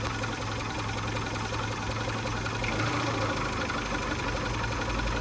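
A 1995 Geo Tracker engine idles with a constant, slightly knocking mechanical hum, heard at moderate distance and without speech.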